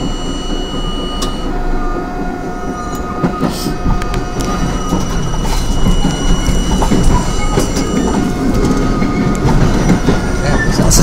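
An R32 subway train rumbles loudly along the rails between Broad Channel and Howard Beach with steady clatter, screeching wheel squeals and a faint voice in the background.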